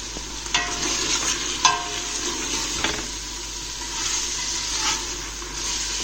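Cumin seeds, salt, chili powder and turmeric tipped into a hot pan of curry masala for spinach and chicken curry, giving a soft sizzle with a few stirring scrapes and light clinks, close and steady, no talking.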